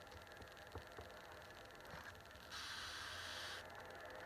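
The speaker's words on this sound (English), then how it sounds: "I love this spray bottle." A spray bottle mists water onto chalk paste in one soft hiss lasting about a second, heard close and quiet against a faint room hiss with small taps before it.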